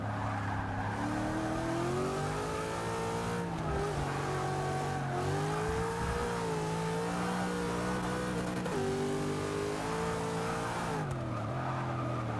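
A V8 Supercar engine roars in Forza during a multi-class race through traffic, a loud, continuous near drone that shifts pitch with gear changes and throttle, with occasional tyre noise and no talking.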